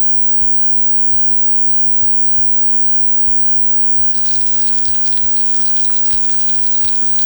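Tofu patties frying in hot oil in a pan: a steady close sizzle with intermittent knocks from utensils, jumping to a brighter, fiercer spitting crackle about halfway through.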